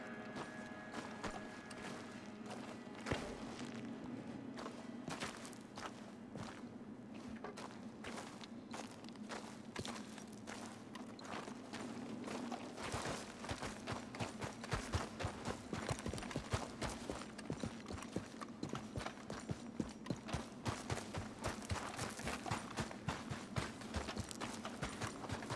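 Steady clip-clop of horse hooves walking in the video game Red Dead Redemption 2, continuous rhythmic footfalls at moderate distance under a low ambient bed, occasional soft breathing.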